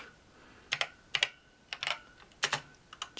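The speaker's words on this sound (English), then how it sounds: "So if we now type" Keys clack on an Acorn Electron 8-bit home computer keyboard in short bursts, several quick presses grouped with pauses between them, close and fairly quiet against a faint background hum.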